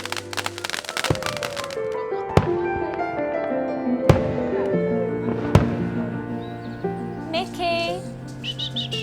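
Fireworks bursting outdoors, several sharp loud bangs spaced a second or two apart over crackling and whistling, with rising whistles and chirpy squeals near the end.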